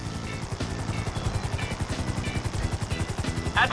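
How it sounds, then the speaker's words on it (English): A helicopter hovers in Grand Theft Auto V, its rotor beating in a rapid, steady pulse close by and loud, with no talk over it. "Just hold the chopper here."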